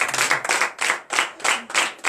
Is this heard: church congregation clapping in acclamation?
yes